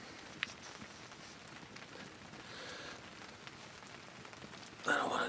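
Rain falling steadily at a bushcraft campsite, a continuous close patter on surfaces with faint drops, and a brief louder rustle near the end.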